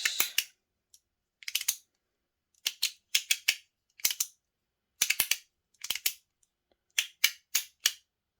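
A titanium MOT Rhythm fidget ring with an inlay clicks in sharp, crisp bursts of two or three snaps, repeated at irregular intervals close up against near silence.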